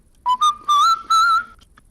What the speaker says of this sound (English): Got some whistling going on.